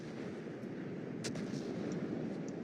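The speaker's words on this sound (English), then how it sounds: "Yep, there you go, I'm being shot at." Naval gunfire aimed at a warship in the World of Warships game: a dense, steady roar with a few sharper impacts breaking through near the middle, loud and continuous throughout.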